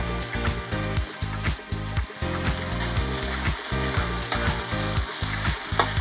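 Chicken and bok choy stir fry with mild chilies sizzling loudly in a hot pan, a dense steady crackle with a rhythmic low thumping beneath throughout.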